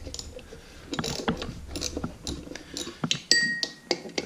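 A ratchet clicks while loosening bolts on the front brake assembly of a Yamaha BW 200 motorcycle, with quick uneven ratcheting strokes and occasional metallic clinks, close and fairly quiet.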